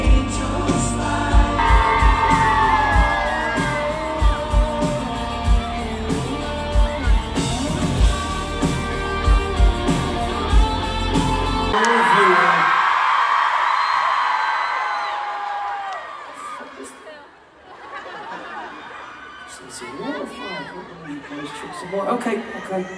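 Concert crowd at a show in Atlanta, loud music and singing at first, then a sustained roar of cheering and whooping that fades, with chatter and a voice talking near the end.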